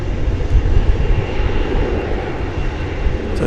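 A Turkish Airlines jet rolls for takeoff at DFW Airport, its engines a loud, steady roar that swells and holds throughout.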